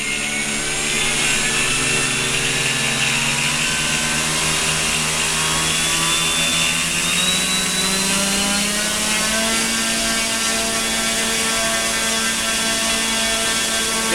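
A simulated radial-engine roar plays from an onboard speaker on an electric AT6 Texan RC plane, loud and continuous with a steady droning hum and shifting tonal overtones as throttle rises.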